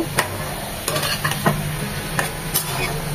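Jute leaves fry in a pan while being stirred, a steady sizzle broken by a few sharp scraping strokes at regular intervals, close and clear with no voices.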